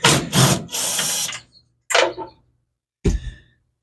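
Power tool driving out seat runner bolts on a 1961 AMC Metropolitan barn find, a close whirring tool in several short bursts, the longer first burst stuttering, with quiet gaps between.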